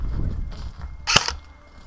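A Specna Arms SA-H08 HK416-clone airsoft rifle with a 7.4 V LiPo battery and European spring fires a single 0.20 g BB through a chronograph: one sharp, close, snappy shot amid quiet background.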